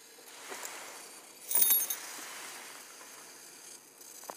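Loose coins and a small metal medical-alert bracelet being handled, giving soft metallic clinks and jingles with a brighter burst of jangling midway, close and fairly quiet.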